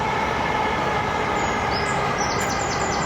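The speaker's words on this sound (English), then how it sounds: "You can hear the train going by in the background." A train passing in the distance beside a weir, heard as a continuous broad rumble and roar with faint high squeals, steady throughout.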